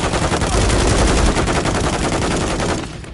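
Sentry turret in Call of Duty Modern Warfare 3 firing a dense, rapid automatic burst, loud and relentless for a few seconds before fading slightly.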